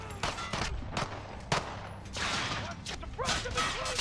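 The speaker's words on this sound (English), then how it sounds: "there is a machine gun firing at our position" Gunfire in the video game Modern Warfare, with a machine gun firing at the player's position. Sharp bursts and separate shots crack through steady battle noise, near and loud, with faint speech in places.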